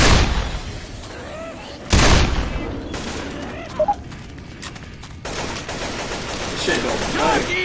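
Video game gunfire crackles in sharp bursts, with a loud blast near the start and scattered shots afterward, while a player talks over the action.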